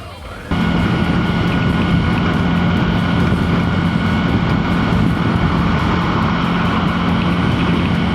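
A Suzuki V-Strom 650 motorcycle engine catches after a brief quiet moment and settles into a loud, steady, close-up idle that continues to the end.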